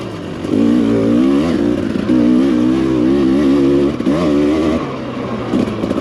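Several dirt bikes, one carbureted and four throttle-body-injected, including a Sherco, idle and rev nearby on a snowy mountain ride, a steady loud rumbling drone that swells and dips with the throttle.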